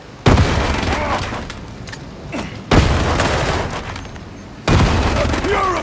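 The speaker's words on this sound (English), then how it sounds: "A purifying grenade! Time for a grenade!" In Warhammer 40K: Darktide, three heavy grenade explosions burst close and loud at roughly two-second gaps, each leaving a long rumbling, crackling tail over ongoing battle noise.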